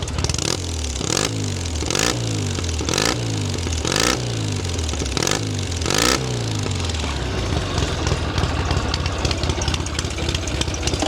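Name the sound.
Rickman Métisse 650cc motorcycle engine idling, baffled pipes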